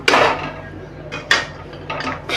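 A spoon scrapes and knocks against a pan while gram flour roasts in ghee for besan laddoos, giving a few loud, separate metallic scrapes with pauses between them and no speech.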